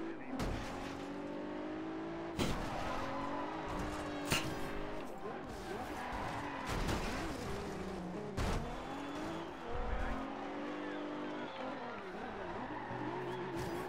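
Race cars in Forza Horizon 2 roar and whine through the race with tire squeals, skids and sharp impacts, close and fairly loud, with talking mixed into the game sound.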